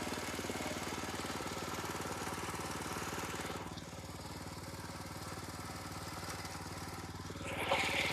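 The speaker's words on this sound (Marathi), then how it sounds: "ट्रॅक्टरचा आवाज येतो त्यामुळे माझा आवाज कमी आहे" A tractor engine chugs steadily nearby during rice transplanting, a low thumping drone with a knocking pulse that eases slightly midway before swelling again.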